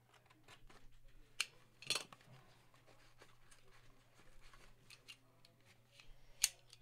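Scissors snipping open a baseball card break pack, a few crisp separate cuts with quiet rustling between them, faint and close over a low steady hum.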